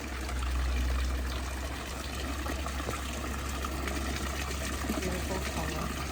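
Steady water flowing and trickling through a decorative feature in the Portuguese spa town of Luso, a continuous wash of splashing with low rumble, fairly close and unbroken throughout.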